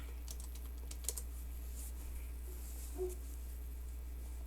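Rapid typing on a computer keyboard during an online session, irregular clicking keystrokes close to the microphone with a couple of louder taps, over a steady low hum and no talking.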